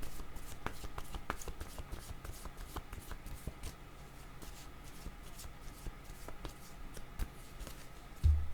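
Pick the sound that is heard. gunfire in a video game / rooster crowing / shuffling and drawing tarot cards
shuffling and drawing tarot cards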